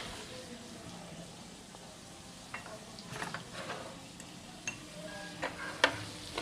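Dried chilli tempering sizzling in butter in a pan for palak paneer, a faint steady crackle with scattered small pops and clicks that grow busier toward the end.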